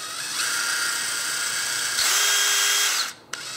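A Dewalt DCD708 cordless drill spins a long extension bit, a loud close whine running steadily, rising in pitch after about two seconds, then cutting off with a brief click.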